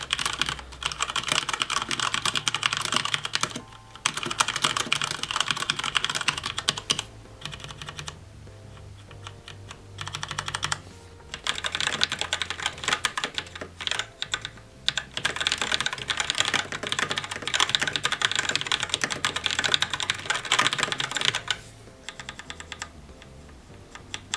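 Typing on a mechanical keyboard with Cherry MX Red switches, rapid continuous clacking keystrokes in bursts with short pauses between, close and fairly quiet, no voices.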